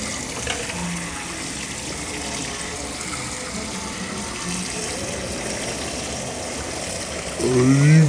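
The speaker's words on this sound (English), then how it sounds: "So first we're gonna get a sink. As you can see, we got that. Wet it all up." Water runs steadily from a sink tap onto a fidget spinner, a loud continuous splashing gush that grows heavier and fuller near the end.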